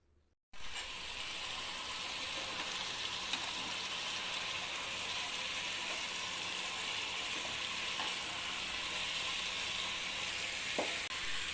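Chicken fries in masala in a pan, giving off a steady, loud, close sizzle that runs unbroken with no voices.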